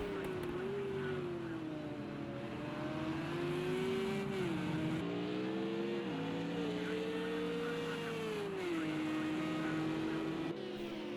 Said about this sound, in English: Let's have a look at Jack Game in the Porsche. Coming down now towards the hairpin back onto the oval.